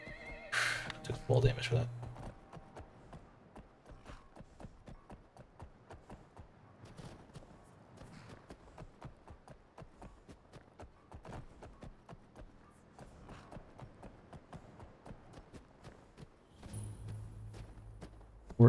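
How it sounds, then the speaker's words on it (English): Horse in Skyrim, giving a short whinny near the start and another near the end, with soft hoof clops and footsteps between them under a speaking voice. "This is officially your horse."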